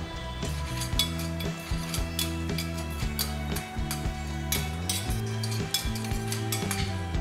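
Onions and celery sizzling in melted butter in a hot pan while being stirred, a steady frying hiss with repeated scraping and clinking of a utensil against the pan.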